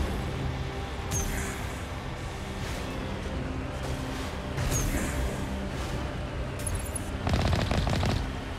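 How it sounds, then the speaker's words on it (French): Gunfire in a Mass Effect firefight comes through as a low, steady rumble of bursts that thickens near the end, with no clear voices over it. "On nous tire dessus."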